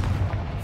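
A Confringo fire spell bursts in Hogwarts Legacy, a short, heavy booming blast with a deep rumbling low end that fills the whole brief moment.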